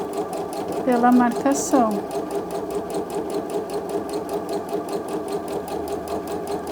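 Sewing machine stitching a small Easter bag with bunny ears, running steadily and close throughout, with a brief pause and a pitch sweep early on while someone talks over it.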